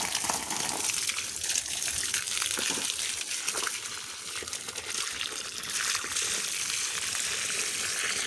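Water runs and gushes in a steady, close, fairly loud stream, a dense hiss that barely changes throughout, with no voices.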